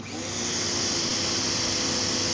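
Greenworks electric pressure washer spraying through a 25-degree nozzle, a steady loud motor whine and hiss that ramps up in the first half second and then holds constant.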